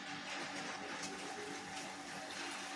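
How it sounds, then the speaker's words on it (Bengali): White cooking oil poured into a kadai (wok) for frying mushroom pakora, a steady liquid pouring and gushing sound that runs the whole time at an even, fairly faint level with no talk. "এবার মাখিয়ে নেওয়ার সময় সময় আমি কড়াইতে সাদা তেলটা দিয়ে দেবো।"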